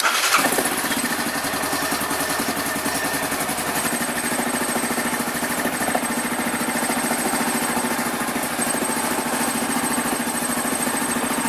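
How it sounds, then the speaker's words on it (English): Yamaha Grizzly 550 ATV engine cranks and catches at once, then settles into a loud, steady, close idle that runs throughout with no one talking. "turn the key on, press the green button"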